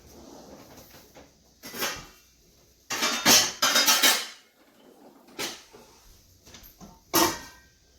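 Metal clanks and scrapes of a lid being set and shifted on a cooking pot of couscous and chicken, heard as several sharp clatters in short bursts with quiet gaps between.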